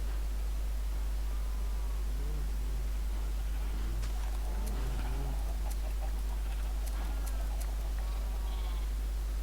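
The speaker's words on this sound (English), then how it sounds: "I'm actually going to turn the sound down a bit for the sheep, because the animals are very loud." Sheep in the Minecraft video game bleating repeatedly in short, loud game-sound calls, several in a row with a few chirpy animal noises over a steady low hum.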